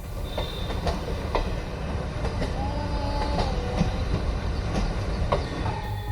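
Indian Railways train running on the tracks, a steady loud rumble with regular clicking wheel beats and faint squealing tones throughout.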